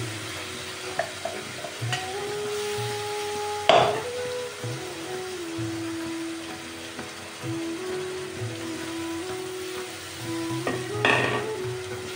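Blended tomato is added to a hot pan of meat and taro, sizzling and frying steadily, with occasional spoon scrapes and clinks against the pan.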